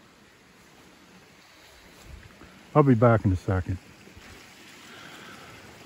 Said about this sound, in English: let's take a look at the running water